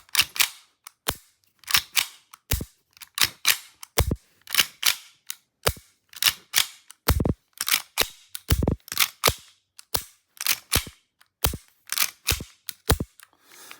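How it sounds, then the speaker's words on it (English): An EMG Staccato C2 airsoft pistol is cocked and dry-fired again and again, each cycle a sharp close mechanical slide rack followed by a crisp trigger snap, repeating in a brisk irregular rhythm with no talking. "So cocking it, let go of the trigger, pull the trigger."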